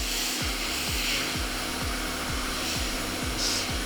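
A heat gun set to about 200 degrees Celsius with low airflow blows hot air to loosen the glue under an Apple Watch Series 4 screen, a steady close whoosh with a faint repeating pulse underneath.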